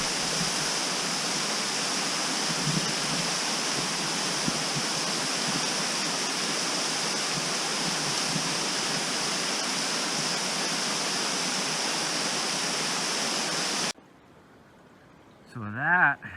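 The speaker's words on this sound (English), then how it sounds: "So that right there is one of about a dozen waterfalls on the other side of the valley." Distant waterfall across a valley along the North Fork Sauk river, a steady, even rush of water hiss lasting about fourteen seconds, then it cuts off abruptly to near quiet, followed by a brief voice at the very end.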